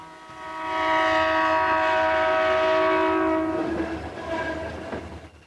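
BN freight train 110 passing through Fargo, its horn sounding a long loud sustained chord that rises quickly, holds for several seconds, then fades under the rumble of the passing cars.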